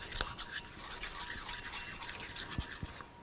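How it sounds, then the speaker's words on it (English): Strawberry dessert filling being stirred: soft wet scraping and light clicks of a utensil against the pot, quiet and close, with faint taps near the end. "Give it another little stir."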